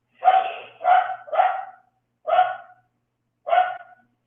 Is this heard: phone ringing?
no